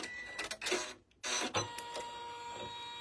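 An embroidery machine stitches to tack a piece of hardware down, giving a quiet mechanical whir with bursts of rapid needle clatter, one short pause and then a resumption, close by.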